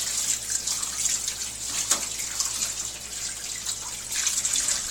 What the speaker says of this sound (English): just turn on that cold water right there